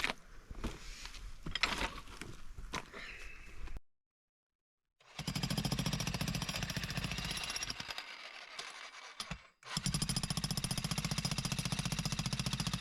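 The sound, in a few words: jackhammer chipping concrete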